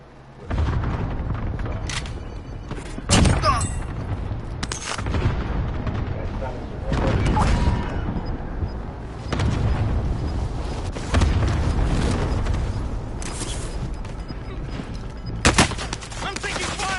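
Loud video game gunfire in a squad battle: heavy booming shots and bursts come repeatedly throughout, with brief quieter gaps between them. Voices talk underneath.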